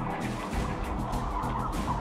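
Turkeys packed into an overcrowded farm shed, a dense continuous din of gobbling and squabbling birds with scratchy bursts throughout, loud and close with no talk.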